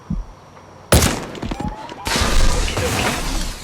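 Gunfire in the tactical shooter game Ghost Recon Breakpoint: loud bursts of shots and impacts open after a quiet start, then continue as dense, sustained firing with booming thuds.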